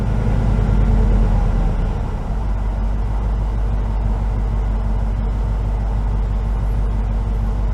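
A 1996 Chevrolet Tahoe engine idles high at about 1400 rpm, a loud, steady low rumble heard close up with an even throb throughout.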